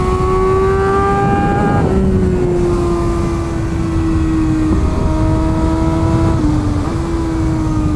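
Kawasaki ZX6R sport motorcycle at high revs on a racetrack, a loud continuous engine whine with rising and falling pitch through gear changes and brief dips at shifts, close and constant throughout.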